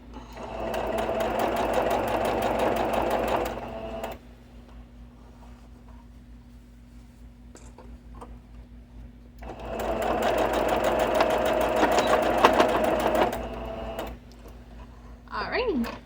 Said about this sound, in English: we're going to finish sewing this all the way around